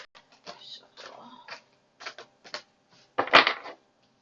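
Large tarot cards are shuffled in irregular bursts of papery riffling and slapping, close and fairly quiet, with a louder flurry near the end.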